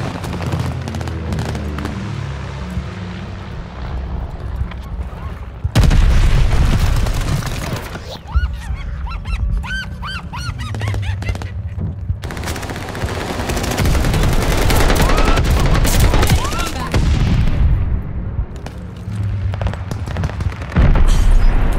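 Bombing run in the Call of Duty: Vanguard shooter game, with loud rolling explosions and booms mixed with bursts of rapid gunfire over about twenty seconds, dense and near.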